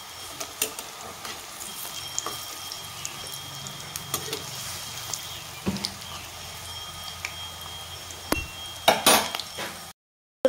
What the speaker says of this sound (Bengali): এইখানে লাল লাল হয়ে ভাজা হয়ে গেছে, আমি নাড়িয়ে চাড়িয়ে উল্টে দেব সুন্দর করে।